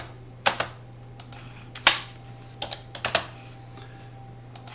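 A computer keyboard typing the command LI in DraftSight drafting software: about eight crisp, separate keystrokes spread over a few seconds, close and clear over a low steady electrical hum.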